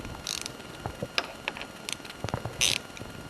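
Clicking ratchet wrench with an 8mm socket breaking loose bolts on a 2005 Honda CRF250R throttle tube, giving quick uneven bursts of ratcheting clicks and mechanical ticks close up in a quiet workshop.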